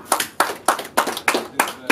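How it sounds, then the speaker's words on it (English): A few people clap in slow, separate beats, about seven distinct claps over two seconds, fairly close and moderately loud, with no one talking over them. "Should they deserve an applause?"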